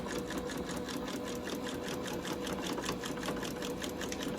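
Sewing machine back stitching over the loop of a drawstring backpack, a close, steady rapid mechanical whir with fast regular needle beats and no pauses.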